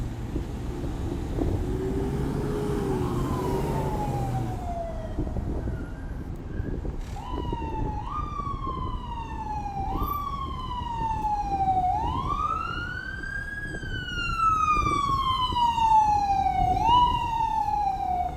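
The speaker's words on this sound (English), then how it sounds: "those sirens are me. Never mind them." Emergency sirens wail loudly, rising and falling in sweeping cycles over low traffic rumble, growing stronger toward the end.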